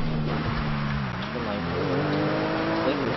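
Ford Mustang GT500 driving in the GTA5 video game, a near engine note rising and dipping through gear changes, with a voice talking over it.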